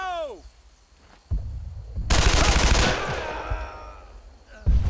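Gunfire in the WWII shooter Brothers in Arms: a sharp shot, then a loud sustained burst of automatic fire lasting about a second, followed by a fading tail and another abrupt shot at the end.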